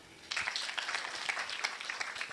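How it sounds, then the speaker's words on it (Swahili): Audience applause at a county best practice award forum, a steady wash of many hands clapping that starts abruptly after a brief quiet moment and carries on evenly at moderate distance. "Yes, makofi tena."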